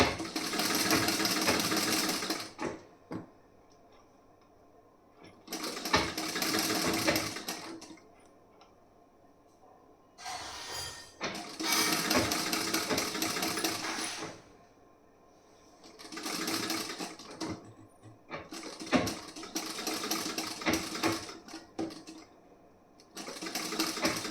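A sewing machine stitches a piece-style blouse in several loud running bursts, each a few seconds long, separated by quiet pauses for adjusting the fabric.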